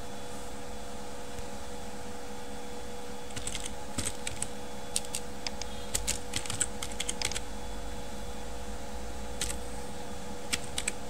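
Keys tap on a computer keyboard during a MATLAB tutorial, with short bursts of clicks arriving in irregular clusters over a steady low hum from a fan or air conditioning.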